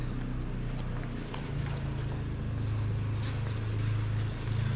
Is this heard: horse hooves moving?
yes